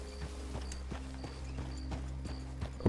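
Horse hooves clip-clop at a steady walking rhythm in the video game Red Dead Redemption 2, evenly spaced thuds over a low constant background hum.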